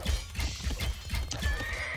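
Horses neighing and whinnying with galloping hoofbeats from mounted Tatar horse archers in a real-time strategy game, a continuous busy clatter of hooves beneath shrill whinnies, fairly loud and close, with no talking.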